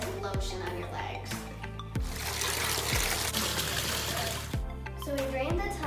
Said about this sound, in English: So we drained the tub and got fresh water for the new bath bomb